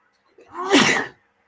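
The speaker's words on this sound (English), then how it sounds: "Sorry, got a bit sneezing there." A single loud sneeze up close, a quick intake followed by a sharp explosive burst, surrounded by silence.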